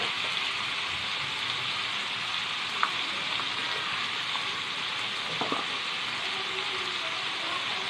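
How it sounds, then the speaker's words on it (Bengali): Onion and prawns fry in a pan for a Bengali prawn curry, giving a steady, close sizzle throughout with a couple of faint utensil knocks and no talking. "লাল লাল করে ভাজবো পেঁয়াজটা আর চিংড়ি মাছটা"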